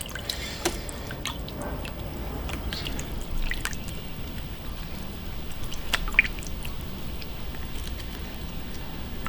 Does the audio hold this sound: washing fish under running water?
yes